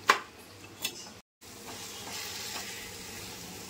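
Raw dal stirred and fried in a pan gives a soft continuous sizzle with light scraping of the spoon and a couple of clinks, quiet and close.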